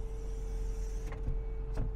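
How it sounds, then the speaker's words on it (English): The electric rear sunshade of a 2004 Mercedes CLK500 runs with a steady motor whine inside the cabin over an engine hum, ending with two soft clunks as it finishes travel. "Let me show you the rear sunshade so we can see. I'll use this button here."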